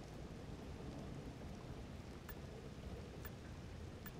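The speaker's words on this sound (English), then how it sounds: "It is raining." Rain hisses steadily in the video game ARK: The Island Ascended, a dense, even wash of falling water with a few brief sharp ticks, faint and with no voices over it.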